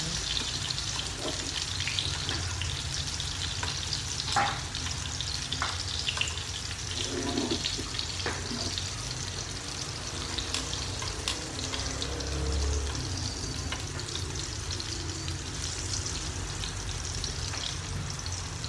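Food fries in a pan on a home stove where eggs were fried, a dense continuous sizzle with scattered pops and light clinks throughout, fairly close and steady.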